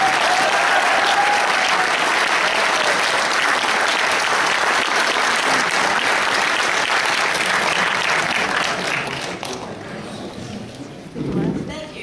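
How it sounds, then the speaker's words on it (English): An audience gives sustained, loud applause to welcome a Libertarian gubernatorial candidate at an indoor political event in Fort Worth, then the clapping thins out and fades near the end. "Let's give her a round of applause."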